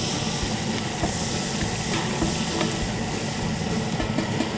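Sausage sizzling in a pan while being stirred, a steady close frying hiss with scraping and clinking from the stirring.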